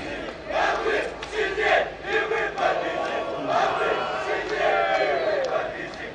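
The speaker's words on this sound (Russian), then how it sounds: "Хорошо слышно болельщиков Воронов, которые приехали из Минска." Krumkachy (Ravens) football fans from Minsk chant steadily in the stands at an 11th-round away match against Sputnik Rechitsa, a continuous roar of many voices at a moderate distance that swells and recedes in rhythmic waves throughout.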